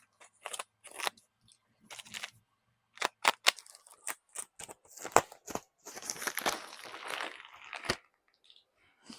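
A package of two Teddy diapers is torn open and unboxed, with irregular bursts of crinkling plastic, tearing and scissor-like snips up close, then a longer rustle and a few faint clicks toward the end, with no talk.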